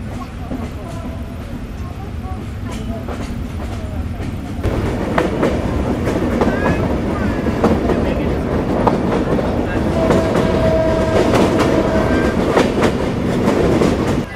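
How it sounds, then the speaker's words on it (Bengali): The Sagardari Express of Bangladesh Railway runs on rails after leaving Noapara, with a steady loud rumble and rhythmic clickety-clack of wheels that grows slightly heavier partway through, heard from inside the train. "নোয়াপাড়া থেকে ট্রেন বেরোনোর সময় ছোট্ট একটি কার্ভ নিয়ে এরপর বের হই।"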